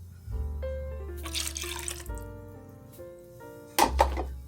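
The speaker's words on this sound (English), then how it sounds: "we're going to add in our buttermilk, our eggs, and our melted butter" Buttermilk, eggs and melted butter poured into a bowl for cornbread batter, with close pouring and glugging liquid sounds, a gurgling trickle, and a brief splash near the end.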